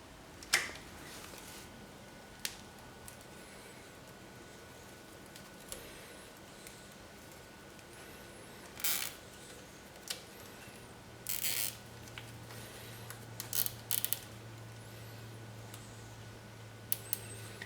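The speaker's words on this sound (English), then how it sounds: "I'm going to get a cable tie and I'm going to clamp these two halves of the caliper together" A cable tie is tightened around the two halves of a Campagnolo Delta bicycle brake caliper, giving short bursts of close ratcheting clicks separated by pauses, with a low steady hum beneath the later part.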